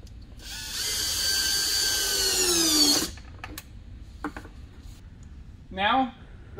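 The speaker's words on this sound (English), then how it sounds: "Go through and snug these up." A power driver snugs bolts on a 2017+ Maverick X3 fender, a loud whirring spin that rises in pitch and then stops, followed by clicks and a second short whirr.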